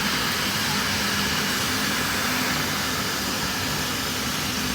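A car wash vacuum cleaner roars steadily while cleaning the inside of a car, a loud broadband rushing hiss held close throughout with no speech.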